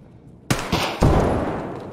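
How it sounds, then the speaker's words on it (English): Shotgun blasts in the video game Escape from Tarkov: three sharp, loud reports in quick succession, each followed by a short echoing tail, with no talking. "Shotgun."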